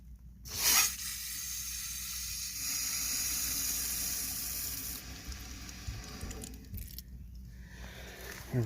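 Water runs at full pressure through new PEX plumbing in a mobile home laundry and toilet hookup. It starts with a burst, then becomes a steady hissing rush that thins toward the end, with faint clunks.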